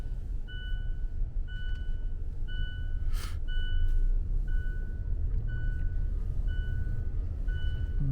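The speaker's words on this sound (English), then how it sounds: "This is the truck." A truck's reversing alarm beeps in a steady, evenly spaced series at the Tsawwassen Ferry Terminal in the early morning, each short tone repeating about once per second over a low engine rumble, with a brief hiss partway through.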